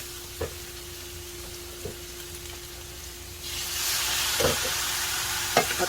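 Hotdogs sautéing in a frying pan on a stovetop, a steady close sizzle that swells louder partway through, with occasional soft clinks and stirring knocks of a utensil against the pan.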